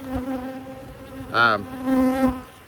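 Honey bees buzzing close around an open hive while a queen castle is prepared, a steady insect drone with one loud bee passing right by the microphone midway, then more buzzing swelling and fading.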